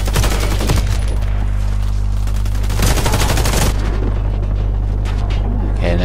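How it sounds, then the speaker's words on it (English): Dense, continuous shotgun fire from a team deathmatch on the oil depot map in the video game Warface on Switch, loud and sustained with overlapping blasts and a steady low rumble throughout. "You're trying to kill us from range there with a shotgun."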